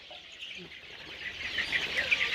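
Desi chicken chicks chirping at a hatchery, a steady chorus of high peeping that grows slightly louder toward the end, with no talk over it.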